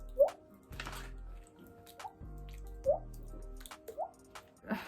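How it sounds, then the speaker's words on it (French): Water drops falling singly at a slow, uneven pace, soft and close, a few plops separated by quiet gaps with faint low background noise. "C'est le bruit d'une goutte d'eau."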